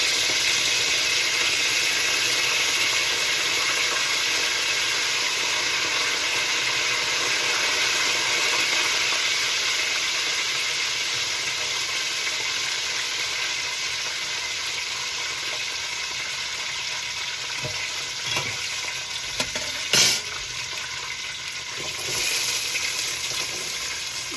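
Curry leaves and green chili fry in hot oil for a country crab curry, making a loud, continuous close sizzle that crackles and spits briefly near the end, with no speech.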